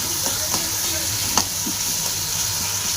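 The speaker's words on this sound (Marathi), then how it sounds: "असंच टमाटा तळून घ्यायचं एकदम गाळा" Tomatoes fry in a pan for baingan bharta, a steady close sizzle with soft stirring scrapes through the whole stretch and no talking.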